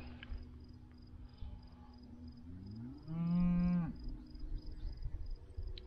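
A cow on a Kansas farm lets out one long, loud moo close by, rising and sustained for nearly a second, amid quiet outdoor ambience with faint insects.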